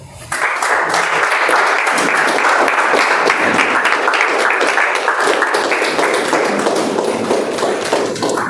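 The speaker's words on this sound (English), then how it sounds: "I want each and every one of us to stand up and applaud" A live audience at a Toastmasters club meeting claps steadily and loudly for a full eight seconds, a dense, sustained wash of applause with no speech over it.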